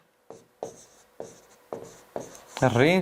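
Pen or marker writing by hand on a board during a maths lesson, several short scratchy strokes in a row with pauses between, close and fairly clear, ending with a voice speaking.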